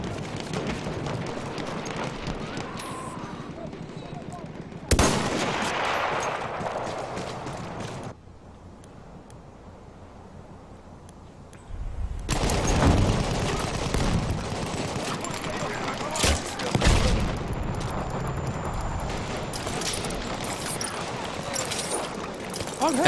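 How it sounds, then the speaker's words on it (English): SMLE carbine gunfire in the video game Battlefield 1 during a competitive match, with sustained loud volleys and explosions, a brief quieter stretch, and commentary voices speaking over the action. "Looks like he is using the SMLE carbine."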